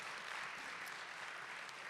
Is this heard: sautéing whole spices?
no